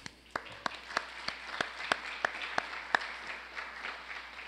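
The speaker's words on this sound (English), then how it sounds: "maybe we should give an applause to Mark, I think." Sparse, fairly faint applause from a conference audience after a psychology talk, with distinct individual claps in a slow, steady rhythm over a low background hum.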